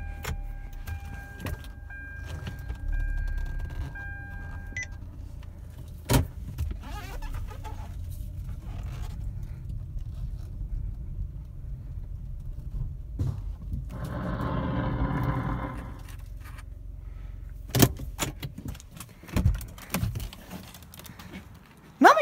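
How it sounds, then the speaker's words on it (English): A car drives into an abandoned house and parks, its engine a steady low rumble throughout, with occasional sharp knocks and a brief louder stretch midway. "Let's see if we can park the car in here."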